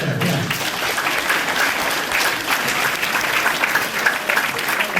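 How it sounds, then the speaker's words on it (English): An audience at a senior all-night party with a hypnotist show claps loudly and steadily for about five seconds. The applause is dense and continuous, with no talking. "let's give them a big round of applause"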